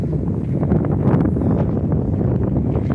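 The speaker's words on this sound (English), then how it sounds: "I'm sorry about the wind, guys. There's nothing I can do about it." Heavy wind buffets the microphone during an outdoor walk in a loud, continuous rumbling roar with gusty surges, no talking.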